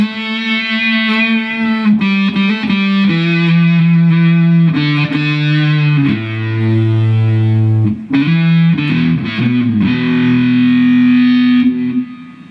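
Heavily distorted electric guitar through an AmpliTube Big Pig amp model, fat and saturated with rich overtones, playing loud sustained notes and chord changes with brief gaps, alone with no talk.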